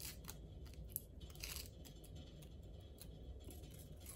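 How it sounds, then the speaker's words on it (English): Crinkly foil wrapper of a Hershey's Kiss being unwrapped, rustling and crunching close up, with brief sharp crackles over a steady hiss, no talking. "So let's continue on and actually unwrap the Hershey Kiss."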